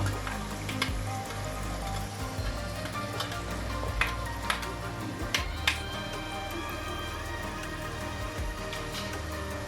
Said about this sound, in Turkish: Evet biberimizi de hafifçe böyle karıştırıyoruz